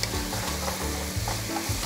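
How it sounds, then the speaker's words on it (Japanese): Meat searing in a pan over high heat for a Korean New Year rice cake soup, a loud, steady close sizzle with faint stirring and scraping throughout. "強火で早く焼いてください"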